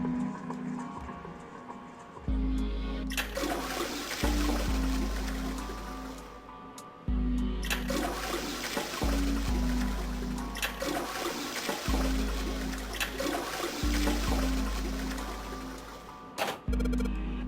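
A toilet flush in the video game Nine Hours, Nine Persons, Nine Doors: a long, loud rush of water with repeated surging cycles and a low droning hum throughout, no voices.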